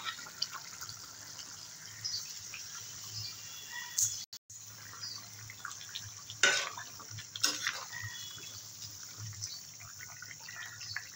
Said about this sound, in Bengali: এবারে বেগুন ভাজা আর মাছটা দিয়ে দেবো।